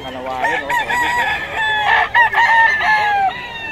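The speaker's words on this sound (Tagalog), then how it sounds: "Talagang ready to go na ang mga manok ni Boss Russell mga idol." Gamecock roosters crow loudly and close at hand, several overlapping cock-a-doodle-doo calls mixed with clucking, in a market setting.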